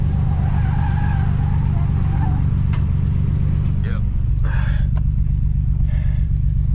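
A car is taken out on a test drive right after being brought back to running order. Its steady engine rumble carries throughout, with short, harsh tire-skid bursts breaking through in the second half.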